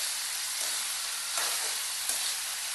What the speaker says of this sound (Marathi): याला पण चांगलं परतून घेऊया।